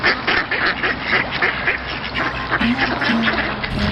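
Ducks in a Bengali cartoon, kept in a walled pen on a house rooftop, quack repeatedly in a busy overlapping chorus of loud close calls.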